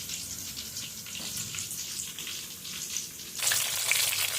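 Tomatoes added to browned garlic fry in a pan, a soft continuous sizzle that brightens and grows louder near the end, with no one speaking.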